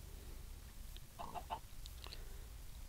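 A chicken in the video game Minecraft gives a few soft clucks in quick succession around the middle, faint against a low rumbling game background, with no talking.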